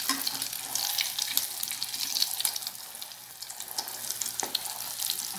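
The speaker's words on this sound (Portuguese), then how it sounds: "Já tá quente o óleo. E agora eu vou colocar pra fritar." Onion snacks fry in hot oil with a dense, crackling sizzle, and a few louder clatters stand out above the bubbling. Close and continuous, with no speech.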